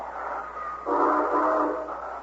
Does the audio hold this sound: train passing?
yes